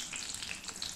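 Chili chops (lonkar chop) frying in oil, a dense bright crackling sizzle with small popping bursts, close and steady.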